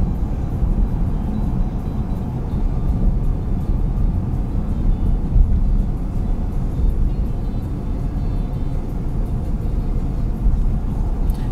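A car drives steadily through a North Las Vegas neighborhood, a continuous low road rumble and engine drone heard from inside the cabin, with no talking.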